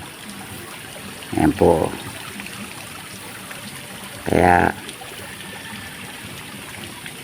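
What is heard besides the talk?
small waterfall, flowing water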